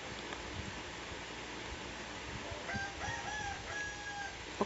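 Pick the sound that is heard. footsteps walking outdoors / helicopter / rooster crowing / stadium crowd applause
rooster crowing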